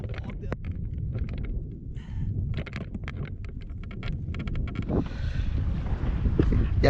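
Cold wind buffets the microphone on a boat on Lake Norman in early winter, a continuous rough rumble with gusts rising toward the end, under intermittent talk.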